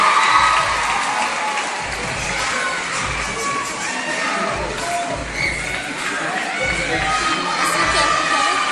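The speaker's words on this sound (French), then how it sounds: "On va également applaudir le producteur Daniel Torgman qui a produit le film d'Esco" A large crowd at a film premiere preview in a big Paris cinema cheers, whoops and applauds, producing a loud, continuous roar of voices and clapping that holds steady throughout.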